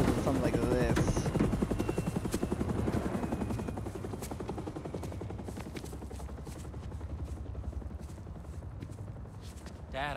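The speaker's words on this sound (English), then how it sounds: "They bring the fucking helicopter to something like this?" Helicopter rotor thudding in the Spider-Man 2 video game, a steady rapid chop that is loud at first and then eases to a constant drone, with voices talking over it.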